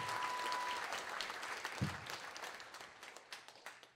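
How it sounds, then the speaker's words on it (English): Audience applause at a comedy show with a science talk, a dense, steady wash of clapping from a crowd that holds through the whole stretch and thins slightly toward the end. "Give him a round of applause."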